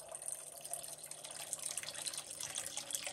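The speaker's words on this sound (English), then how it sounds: "we're gonna take a little bit of red wine, sweet red wine. And we're gonna pour a little bit of that in there." Sweet red wine poured from a bottle into a pot of chicken stew, giving a steady liquid trickle and splash that runs for a few seconds at moderate, even loudness with no talk.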